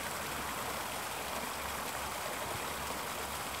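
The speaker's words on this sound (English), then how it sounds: "just focus on that water, on the swirling patterns that the foam is making on the pond" Water swirls and flows across a foamy pond in a steady, dense rushing wash that stays even throughout, close and moderately loud with no voices.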